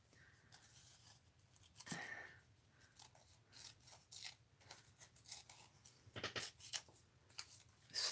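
Scissors snip paper close around printed words for an art journal page, a quiet, irregular run of small cuts and crisp paper rustles, close up.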